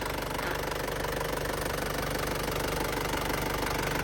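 A 1997 Isuzu Dragon Eye pickup truck's 2,800cc engine idles steadily with an even, rhythmic knocking chug, constant and close, with no talking.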